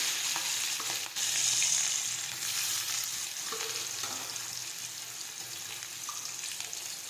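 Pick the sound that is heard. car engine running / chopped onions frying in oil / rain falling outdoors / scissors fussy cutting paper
chopped onions frying in oil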